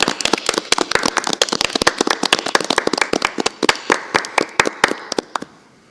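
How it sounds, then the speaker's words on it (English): Applause at a board of education meeting: a small group claps in sharp, rapid, closely spaced claps, loud and near, thinning and stopping just before the end. "we give her another round of applause"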